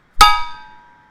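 A single bright metallic clang from a wooden spoon hitting a metal pot lid, ringing out and slowly fading over about a second.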